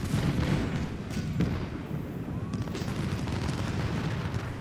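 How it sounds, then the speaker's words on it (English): Cannon and rifle fire from a Civil War battle in Ultimate General Civil War: a continuous crackle of musketry over low booming cannon, loud and steady throughout with no pause. "Keep firing, boys."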